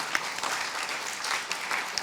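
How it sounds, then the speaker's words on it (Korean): Applause rises from a church congregation during a Sunday service, clapping for a newly married couple; the dense clapping is fairly soft and continuous, with a few sharper claps standing out. "우리 박수 한번 하겠습니다"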